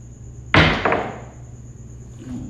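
Small 19 mm dice are thrown and clack together, a sharp loud impact followed by a second quicker knock, then a brief faint rattle as they settle over a steady background hum.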